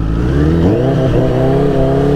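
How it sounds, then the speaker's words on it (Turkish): A Honda 1000RR motorcycle engine revving hard while the rear wheel slips in snow and mud, a loud, steady close-up drone with the pitch rising and falling slightly, no talking. "Ben de gaza basıyorum, motor gitmiyor diyorum."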